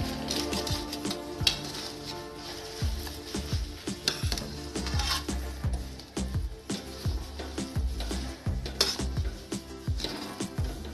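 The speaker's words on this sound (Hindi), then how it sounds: "सारी चीनी को हम एक साथ इसमें मिक्स कर लेंगे।" A spoon scrapes and clinks against a metal pan while powdered sugar is mixed into warm panjiri, a whole-wheat flour sweet, giving a steady run of sharp rhythmic taps and scrapes up close, with no talking.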